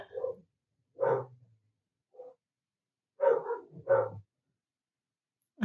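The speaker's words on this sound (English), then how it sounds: "there go my dogs, going crazy again" Dogs barking indoors at home, several sharp barks in short bursts separated by silent gaps, heard from a moderate distance and fairly loud, with no talking.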